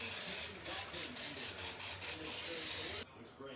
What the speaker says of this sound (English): Take your spray and heavily spray the inside of your pan.